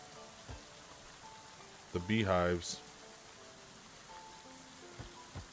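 Steady rain falls across a Going Medieval game scene, a soft continuous hiss with scattered drop ticks, while someone talks briefly in the middle.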